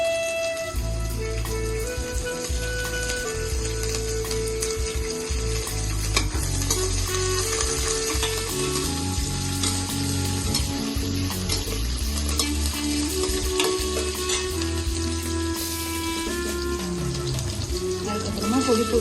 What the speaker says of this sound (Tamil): நல்லா பொரிஞ்சதுக்கு அப்புறமா இப்போ கருவேப்பிலை, பச்சை மிளகாயை ஆட் பண்ணிக்கலாம்